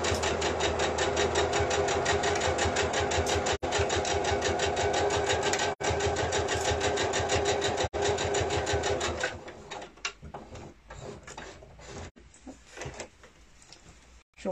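A sewing machine stitching a fabric mask pouch runs in a loud, fast, steady whir for about nine seconds with three brief stops, then gives way to quieter, scattered handling noises and short bursts.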